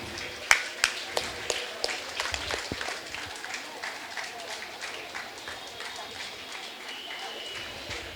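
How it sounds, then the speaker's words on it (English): Crowd applause at an evening Ramanavami celebration held by a bhajan samaj in Ghatkopar East, starting with a few sharp claps and then settling into a steady, moderately loud patter of many hands. "we need to really, really clap loud for them"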